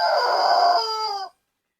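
A pet chicken gives a single loud, close crow with clucking tones that holds for about a second before cutting off into silence.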